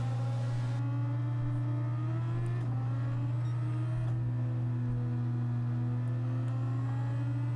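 Cockpit-view engine note of a Dallara SF19 Super Formula car in Gran Turismo 7, a loud steady high-pitched whine with rising gear sweeps and brief shift breaks, heard alone without talk.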